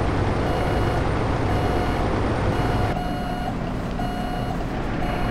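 A tractor-trailer backs into a parking spot at a trucking school, its reversing alarm beeping in evenly spaced tones over a loud, rumbling diesel idle that drops in level partway through, no voices.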